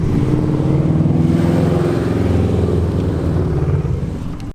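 A car pulls away and settles into a steady cruise, its engine droning loud and close with a low, even rumble that holds for several seconds before cutting off.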